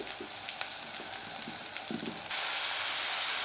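Jackfruit pieces sizzle in a pan of hot oil, a steady frying hiss with light crackles that swells louder and more even partway through as the pieces settle in.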